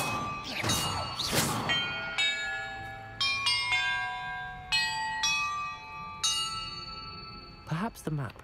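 Sequence of bells struck one after another in the video game Hogwarts Legacy, each clear ringing tone sustaining and overlapping the next, with brief bursts of other game sounds at the start and end.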